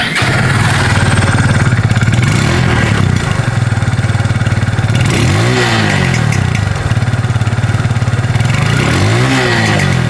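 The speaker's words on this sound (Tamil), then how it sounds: "ஸோ அடுத்து எக்ஸாஸ்ட் நோட் பற்றி பார்க்கலாம்." Exhaust note of a Kawasaki W175 motorcycle, a steady mid-pitched single-cylinder idle broken by two sharp throttle blips that rise and fall, loud and close with no talking.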